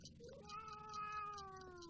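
A cat gives a single drawn-out meow, quiet and slightly distant, with a falling pitch over about two seconds.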